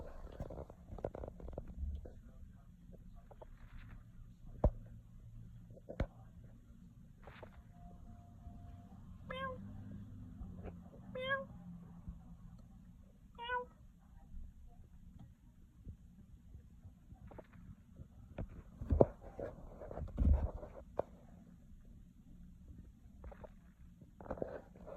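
A one-week-old kitten gives a few short, faint, high meows in a quiet room, spaced out over a low rumbling background.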